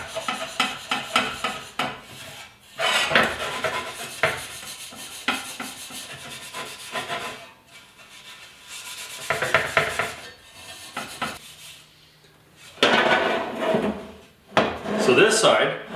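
Steel wool rubs rust off the wheel of a 1974 Yamaha RS100 motorcycle in close, repeated scratchy bursts with short pauses between strokes.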